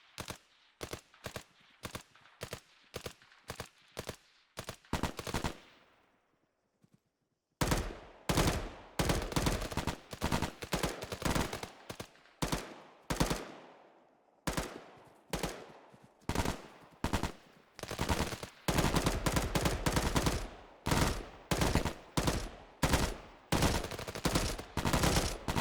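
Rapid bursts of gunfire ring out during a fire-and-move training drill, with sharp shots coming in quick strings, several short pauses, and a dense closing run of fire near the end.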